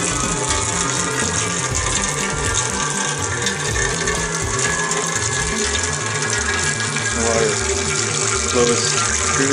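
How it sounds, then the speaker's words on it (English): Water siphons through a short length of tubing and a nozzle, passing through a soup can into a bucket, a continuous rushing, splashing flow at steady volume close by. "Flows through the nozzle, through the soup can, into the bucket"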